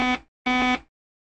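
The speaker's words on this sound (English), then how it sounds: "On channel 70, which is a non-voice channel, an alarm will sound when there's an incoming call for your vessel" Two short, loud electronic buzzer tones from a VHF DSC marine radio sounding its incoming-call alarm on channel 70, each beep about a quarter second long with a brief gap, then silence.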